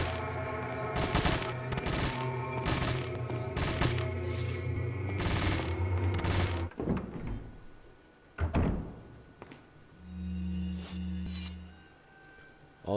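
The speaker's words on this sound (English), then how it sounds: "All of that gunfire" Dense bursts of rapid gunfire in Resident Evil 4 with heavy thumps and clinks, loud and continuous for several seconds, then a few isolated shots and a low droning hum.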